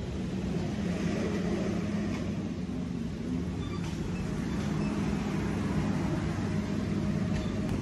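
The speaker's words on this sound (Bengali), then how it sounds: "সো ট্রেন আবার ছেড়ে দিল ক্রসিং এর পরে" A passenger train in North Bengal pulls away again after a crossing, a steady, loud rumble of wheels and carriage noise heard from inside an AC coach, with no speech.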